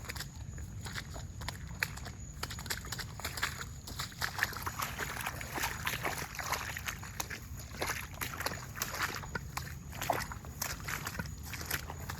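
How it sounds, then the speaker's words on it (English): Boots wade and slosh through a rain-swollen creek in a steady, irregular rhythm of close splashing steps lasting several seconds, with faint background noise and no clear speech. "you want to walk through the creek?"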